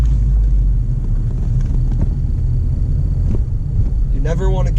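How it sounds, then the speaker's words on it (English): Manual car engine running steadily during a shift from first into second gear, a low continuous rumble with a slight dip near the change and a brief faint whine toward the end. "now we're going to shift into second"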